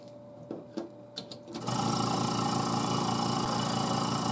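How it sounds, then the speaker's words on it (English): A vacuum pump for a woodturning vacuum chuck starts up after a few light handling knocks, then settles into a loud, steady mechanical hum that runs on without change. "And I start the pump."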